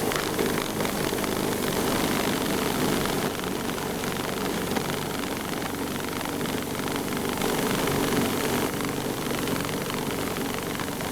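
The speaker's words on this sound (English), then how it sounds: "It took some pushing to get through it, but the blower tossed it away with no problem" A Ryobi 40V brushless snow blower churns through deep, wet road-plow snow, giving a steady, dense whooshing roar that holds nearly constant, close and fairly loud, with no voices.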